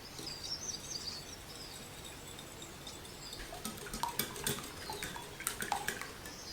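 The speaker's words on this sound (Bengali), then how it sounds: "প্রায় দুই চা চামচের মতো কাস্টার্ড পাউডার মিশিয়ে নেব পাউডারটাকে খুব ভালোভাবে মিশিয়ে নেব" Custard powder is stirred into milk in a bowl with a spoon, light clinks and scraping against the bowl growing busier, faint birdsong in the background.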